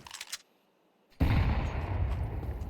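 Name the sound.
gunfire spammed through smoke in Counter-Strike video game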